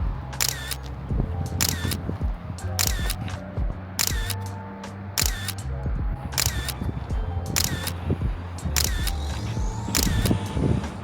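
A single-lens reflex camera shutter firing about ten times at a steady, roughly once-per-second pace during a photoshoot of a Porsche 911 Turbo S, each click crisp and close over a low mechanical hum.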